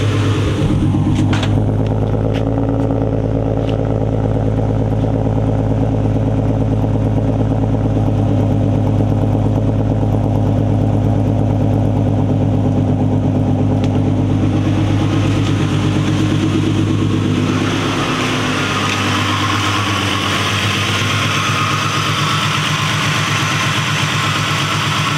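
A loud Nissan VQ35DE V6 engine idles close by in a steady, deep rumble, with a few brief clicks early on. The tone changes near the end, with the low drone fading under a brighter hiss.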